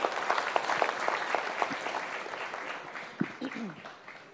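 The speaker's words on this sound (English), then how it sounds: "Please applaud louder." An audience at an interview with a Bollywood actress applauds: a moderate, dense patter of many hands clapping, with a voice speaking over it and a few sharper knocks near the end.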